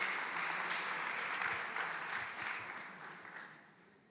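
An audience at a talk on social enterprises applauds a guest speaker, a fairly faint, even patter of clapping that gradually fades over a few seconds.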